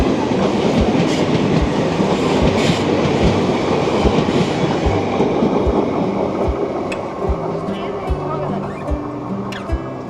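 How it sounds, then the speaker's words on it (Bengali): The Bagh Express train runs on the rails as it arrives at Lalkuan Junction, with a loud continuous rumble and regular clickety-clack wheel beats, and voices are heard underneath. "নির্ধারিত সময় থেকে মাত্র 10 মিনিট দেরিতে ট্রেন আমাদের এসে পৌঁছেছে লালকুয়া জাংশনে"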